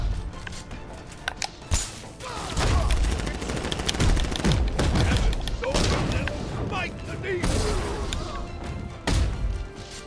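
Enemy gunfire in Batman Arkham Knight, sharp bursts of shots mixed with crashing impacts and combat thuds, loud and busy throughout the fight.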